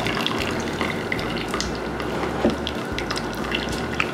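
Cooked homemade pasta poured into a strainer in a kitchen, water splashing and draining in a steady rushing stream, close and continuous, without talking.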